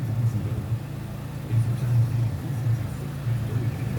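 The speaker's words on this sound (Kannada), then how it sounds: "ಗಾಡಿ ಕೋಲ್ಡ್ ಸ್ಟಾರ್ಟ್ ಮಾಡಿದ್ದೇನೆ" A car engine idling just after a cold start, a steady low rumbling drone with gentle rises in level, heard close, with faint background noise.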